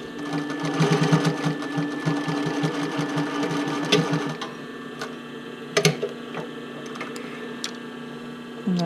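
A sewing machine with an offset needle stitches a bra close to its metal pieces, a fast rhythmic mechanical chatter that stops halfway, followed by scattered clicks and handling noises.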